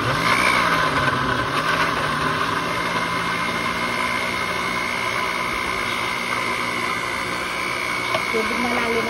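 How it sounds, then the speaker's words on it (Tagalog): A blender whirs steadily in the background for several seconds, a continuous motor hum with a faint high whine, moderately loud and unbroken. "blender na natin."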